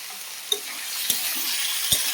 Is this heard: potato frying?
yes